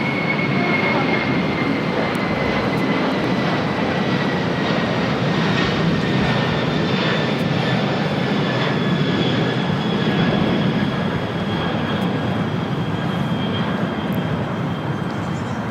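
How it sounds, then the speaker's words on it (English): An Atlas Air Boeing 747-400 converted freighter takes off from LAX, a sustained broadband jet roar with a high whine that slowly falls in pitch, loud and continuous with little talk. "That is Atlas Air 8359 taking off to Fairfield Travis Air Force Base on the 747-400 converted freighter."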